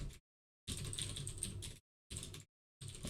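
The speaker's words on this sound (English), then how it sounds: "so I'm just typing stuff." Bursts of computer keyboard typing during programming work, in three quick clusters with short silent gaps between them, close and fairly quiet with no talking.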